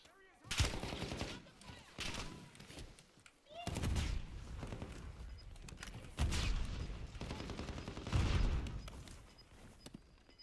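Sniper fire in a battle-royale style video game: several sharp, booming shots and bursts spread over the stretch, with rumbling echoes. Gameplay noise continues between the shots.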